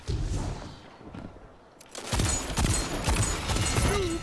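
Machine gun fire in a video game Rumble match, bursts of rapid shots that start after a brief lull and stay loud and close, with other game effects mixed in.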